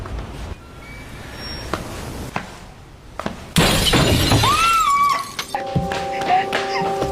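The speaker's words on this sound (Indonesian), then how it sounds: "kaca jendela kamar mereka pun pecah" Bedroom window glass shatters in one loud, sudden crash after a quieter stretch, followed by tinkling debris and a rising wail-like tone, with a dog barking and whimpering faintly in the background.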